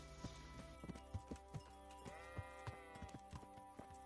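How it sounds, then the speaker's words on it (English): Sheep bleat several times, faint and at a moderate distance. The bleats are mixed with soft, regular knocking footfalls against a quiet background. "I was talking to the sheep"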